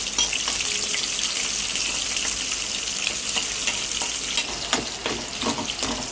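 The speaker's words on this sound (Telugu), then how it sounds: "ఇంకా అలానే పోపు గింజలు అలానే తరిగిన పచ్చిమిర్చి ఆనియన్స్ వేసుకొని బాగా ఫ్రై చేసుకోవాలి" Seasoning seeds, chopped green chillies and onions frying in hot oil, a loud continuous sizzle with occasional sharper crackles and stirring scrapes, close up and without voices.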